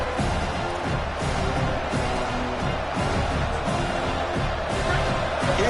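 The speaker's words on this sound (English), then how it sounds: "this crowd is fired up. Listen to this noise here." A dense, steady roar of a large stadium crowd at a Louisiana vs. Notre Dame college football playoff game, continuous and loud throughout with no clear pauses.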